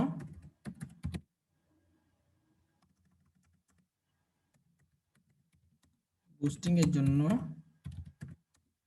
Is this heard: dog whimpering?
no